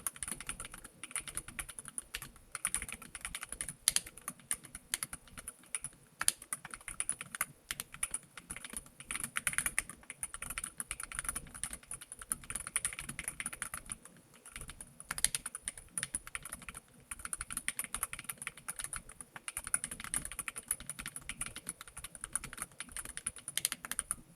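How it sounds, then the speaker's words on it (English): Fast, steady typing on a Nuphy Field75 HE keyboard with magnetic Hall-effect switches, a dense stream of light clicks and clacks, close and quiet, with no talking. "Then of course a quick typing test."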